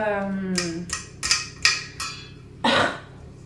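Several short, sharp coughs in quick succession, then one heavier cough a moment later, close to the mic with a brief hum of voice before them.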